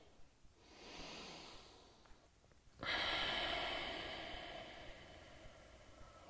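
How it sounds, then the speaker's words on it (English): Slow, controlled nasal breathing during yoga: a soft, drawn-out inhale followed by a longer, louder exhale through the nose, close to the microphone in a quiet room. "So really slow, controlled breathing to help your body relax."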